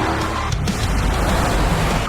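Cars race in a chase scene, a loud, dense roar of engines with a brief skidding swish near the start, no voices over it.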